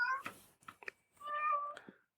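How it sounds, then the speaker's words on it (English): A cat meows twice, the first a short cry and the second a longer drawn-out meow, close and fairly quiet, with a few soft rustles between. "Tell us more about this elusive meow cry in the darkness"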